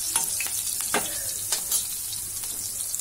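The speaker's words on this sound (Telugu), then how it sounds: "నేనైతే పోపు పెట్టేస్తాను, మీకు చూపిస్తాను ఎలా పోపు పెడతాను నేను అనేది." Spices tempering in hot oil in a home kitchen give off a soft, steady sizzle with brief louder crackling bursts, fairly quiet and with no voices.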